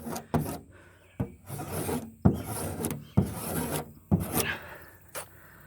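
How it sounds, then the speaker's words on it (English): A hand scraper rasps old paint off the side of a bus being converted to an RV, about five long rough strokes with short pauses between, close up and alone. "so I'm gonna scrape it again"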